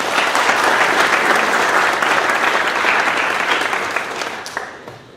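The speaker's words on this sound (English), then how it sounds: "so we give him a quick round of applause" A crowd at a school board of education meeting gives a loud, dense round of applause for a retiring coach, sustained for about four seconds before tapering off.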